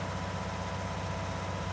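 Blue Ford tractor in Farming Simulator 19 climbing a hill, its engine droning steadily and laboring with a low pulsing throb, close and continuous.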